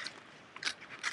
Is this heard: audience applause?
no